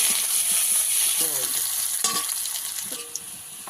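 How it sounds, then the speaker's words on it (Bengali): Onions sizzle and fry steadily in a pan with hot oil, a loud continuous crackling hiss with brief stirring clinks, no voices over it. "দিয়ে দেবো পেঁয়াজ। পেঁয়াজ রান্না করে নেব।"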